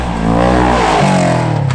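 A Ford RS1 race car engine revs loud and close, with harmonic engine tones climbing and then dropping into a lower, rough roar partway through.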